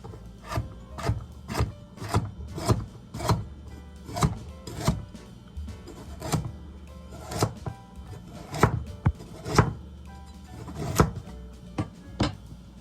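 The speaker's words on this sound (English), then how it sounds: "So how I'm going to cut my carrots, so they're all peeled like this, is I'm going to cut them on an angle" A knife chops peeled carrots at an angle on a wooden board for a vegetable curry stir-fry, giving about two dozen sharp, loud, close thuds in a steady, slightly uneven rhythm with no talk.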